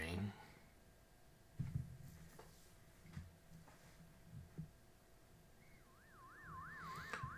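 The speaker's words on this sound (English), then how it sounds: "Is that a police siren we hear going by?" A police siren passes in the distance, its faint wailing rise and fall arriving near the end over quiet room tone and a few soft knocks.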